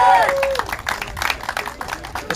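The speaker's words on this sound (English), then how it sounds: "Ladies and gentlemen, give these guys a big round of applause." Crowd applause for the podium finishers at a Radical Cup North America race at Sebring International Raceway, irregular clapping and cheering after a brief opening tone, moderately loud and continuous.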